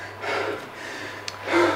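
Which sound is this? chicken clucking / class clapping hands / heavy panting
heavy panting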